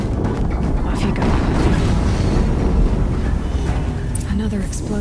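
Rumbling, booming blasts from a fight in the video game Horizon Zero Dawn, a dense, loud low roar sustained throughout with overlapping bursts, mixed with game sounds and some voice.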